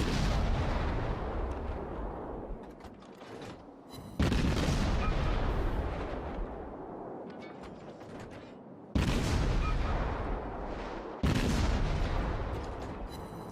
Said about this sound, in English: You can see the volume of fire going on.